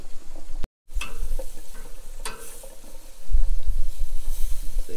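Venison and goose deep frying, a constant bubbling sizzle with sharp crackles and pops, a brief dropout early on, then louder churning bubbling toward the end, with no speech.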